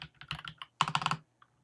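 Typing on a computer keyboard during 3D modeling work in 3ds Max, two short bursts of rapid, close key clicks separated by a brief pause, followed by a couple of isolated taps.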